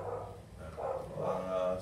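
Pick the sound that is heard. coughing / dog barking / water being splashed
dog barking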